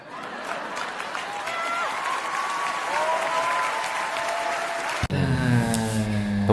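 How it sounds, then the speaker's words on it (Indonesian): An audience at a special-edition TV show with a guest star bursts into sustained, dense applause that fills the space, then the clapping cuts abruptly into another louder, closer burst near the end. "Tepuk tangan buat Daniel Kwan."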